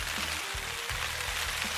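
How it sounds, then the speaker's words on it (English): Rain pattering on the fly sheet of a Locus Gear Khufu tent while wild camping in the Lake District fells at night, a dense, even hiss of drops close overhead with a low hum beneath. "all you can hear is the patter of raindrops on the fly sheet"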